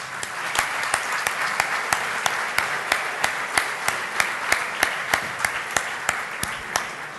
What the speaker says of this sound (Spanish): este primer aplauso es por los 70 años de ADM